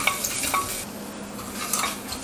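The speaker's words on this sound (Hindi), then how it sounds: "और अब ये गेहूं जो है इसे डाल देते हैं। दो तीन मिनट बिल्कुल धीमी आंच पर हम इसे भून लेंगे।" Wheat grains dry-roasting in a pan over very low heat, stirred steadily with soft scraping and faint rustling clicks throughout, no voices.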